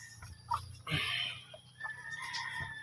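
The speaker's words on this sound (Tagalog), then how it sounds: "Yung mga manok" Rhode Island Red and Black Australorp chickens clucking and making short calls, several separate clucks and squawks spread over a few seconds, fairly close, with no talking.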